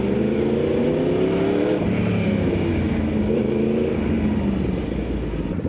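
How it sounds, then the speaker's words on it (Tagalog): A Yamaha R1 1000cc motorcycle idles and revs steadily as it warms up at a track day, its loud continuous engine note rising and falling without a break and sounding close by. "Sakto, mapapainitan tong motor."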